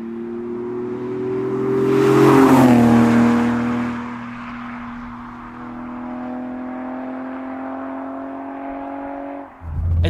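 Toyota Supra on rolled arches with 265-wide tyres driving by: engine note rises to a loud swell, then settles into a steady hum that cuts off sharply near the end, with faint tyre whir underneath.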